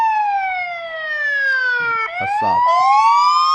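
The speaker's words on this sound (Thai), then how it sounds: "เซนเซอร์การเคลื่อนไหวนะครับแล้วก็ไซเรนนะครับ" Siren alarm of a VIEW2HOME CF26R8 indoor Wi-Fi IP camera triggered by its motion sensor, a loud electronic wail that slides down, then sweeps back up, with a brief spoken word cutting in mid-way.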